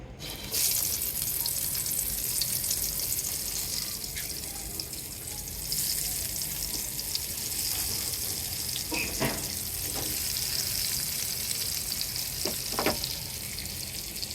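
Spiced eggplant slices sizzle in hot oil in a kadai, a steady dense hiss close by with a few brief clinks and scrapes.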